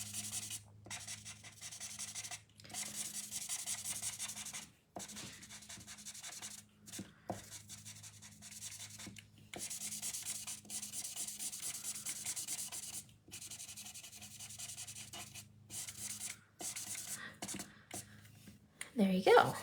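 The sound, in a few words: E70 marker coloring with chisel nib on card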